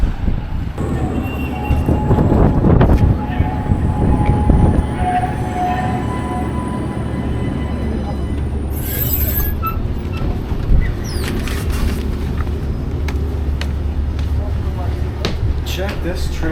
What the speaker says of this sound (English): Check this tram out.